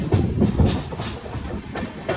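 Inside a moving passenger train, a steady rumble runs under a rhythmic clickety-clack of wheels over rail joints, close and continuous with no talk.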